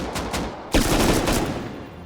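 Gunfire crackles during a raid on a gatehouse in the video game Rust: a rapid run of distant shots, then a louder, denser burst of fire that trails off, with no talking over it.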